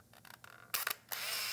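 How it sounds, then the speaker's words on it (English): A Canon AF35M AutoBoy 35mm film camera firing, giving a few soft mechanical clicks and then two louder bursts of shutter and motorized film-advance whirring, close and isolated. "we had some shutter sounds"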